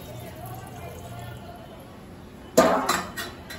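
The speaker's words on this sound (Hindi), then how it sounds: "अब मैं इसमें 2 से 3 ग्लास पानी डालूंगी।" Water is poured from a glass into mutton curry simmering in a pot, a sudden close splash with metallic clinks of the vessel after a quiet kitchen stretch.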